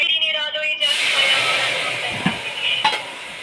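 Cumin seeds hit hot white cooking oil and burst into a loud, steady sizzle that swells after a brief quiet start and carries on, close and bright, with a couple of faint clinks near the end.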